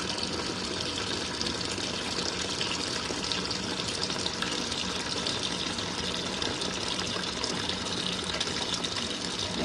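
Hot water gushes steadily into an RV washing machine as it fills, a dense continuous rush and hiss that holds near and loud for the whole stretch with no voices over it.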